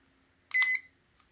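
A single short, loud electronic beep from a Berrcom JXB-178 non-contact infrared thermometer, heard alone against near silence and followed by a faint click.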